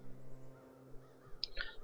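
A bird call in the video game Child of Light, two short, sharp crow-like caws near the end over a quiet, humming backdrop.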